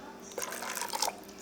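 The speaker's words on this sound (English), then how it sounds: "Let me add a little water." A little water is poured into okpa batter made from Bambara nut flour, giving a brief, soft liquid pour and splash close by lasting about a second, with no talking.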